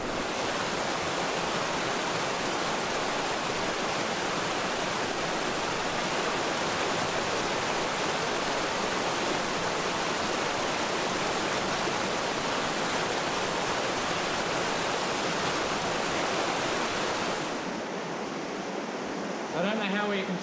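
A river pouring into a hillside cave entrance, a steady dense roar of rushing water close by and unbroken throughout, briefly dropping in level near the end.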